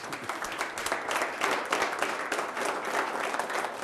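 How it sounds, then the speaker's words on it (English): Audience applause welcoming a network member from Accra, Ghana, at a facilitated session, with steady clapping sustained throughout. "Give Sammy a round of applause and a welcome, please."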